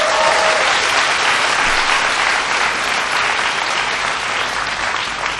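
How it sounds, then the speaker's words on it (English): Dense, steady applause from a large audience at a talk with young people in Saigon, sustained loud clapping throughout with no speech over it. "a big round of applause for..."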